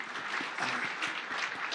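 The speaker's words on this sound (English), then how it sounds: "please clap for him" An audience claps for a music director at a talk event. The steady, fairly quiet applause carries a few distinct individual claps through it, with no speech.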